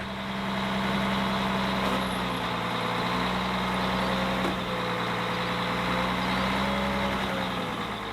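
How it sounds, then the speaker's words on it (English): A snowcat's diesel engine idles steadily and close, a continuous even rumble with a faint higher whine, as the machine drives straight off the side of a trailer. "You basically just drive the piece of equipment straight off the side of the trailer."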